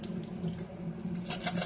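Beaten egg is poured into a pan over Brussels sprouts and garlic, giving a brief, soft liquid trickle and splash that rises near the end.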